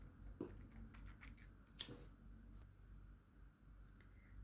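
Scissors snipping crocheted yarn chains, a couple of quiet close cuts, one crisper snip standing out, over a soft steady room hiss.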